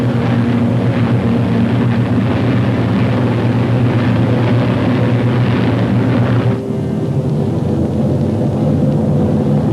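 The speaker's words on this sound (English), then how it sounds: "The Mustangs climb in formation to take positions above the boxes of B-29s." P-51 Mustang fighter planes climb in formation, a loud, dense, continuous engine roar that holds steady throughout, with a slight drop in tone partway through.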